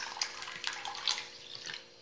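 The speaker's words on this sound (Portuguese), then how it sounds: "vou estar colocando mais 2 litros de água" Water pours into a container, about two litres added while making homemade soap base, a faint soft splashing trickle with a few brighter splashes over two seconds.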